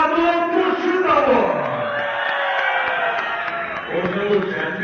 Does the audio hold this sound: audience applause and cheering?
yes